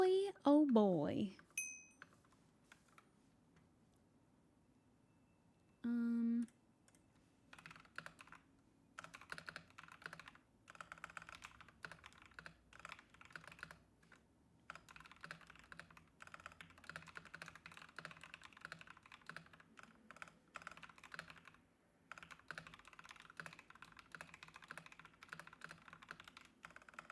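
Loud computer keyboard typing in rapid, dense bursts of clicks, nearly continuous through the second half, close to the microphone during a gaming session, with a short tonal sound just before it starts.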